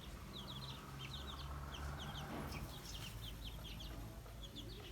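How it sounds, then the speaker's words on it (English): A mother hen and her chicks cluck and cheep outdoors, with high chirps repeating steadily over a low rumble of background noise. "chicks and their mother"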